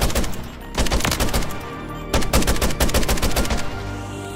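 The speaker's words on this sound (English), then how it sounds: "converts this shotgun into a hard-hitting automatic battle rifle" Automatic fire from a JAK Jawbreaker battle rifle, a shotgun converted to full auto in Call of Duty MW3, rattles in loud rapid bursts separated by short pauses, with no voice over it.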